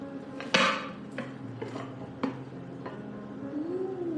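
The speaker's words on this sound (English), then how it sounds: "we're going to flip this over onto the plate" A hot pineapple upside-down cake pan is flipped over onto a plate, giving a series of about five sharp, close metal-on-plate knocks and clatters spread over a few seconds, with no talk.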